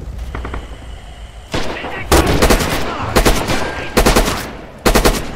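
Bursts of machine-gun and rifle fire from the World War II shooter Rising Storm/Red Orchestra 2 on a winter forest map, loud and close, coming in several rapid clusters separated by brief pauses.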